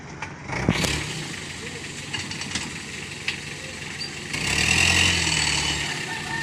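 A motorcycle engine idles steadily, then revs up louder near the end. A sharp clatter comes early, with scattered background noise throughout.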